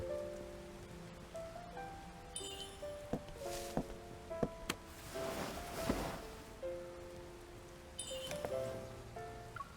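Rain falling in a game scene where characters shelter among flowers, a steady wash of droplets under tinkling melodic music and soft effects throughout.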